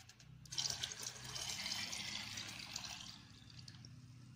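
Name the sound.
water being poured to dilute tobacco decoction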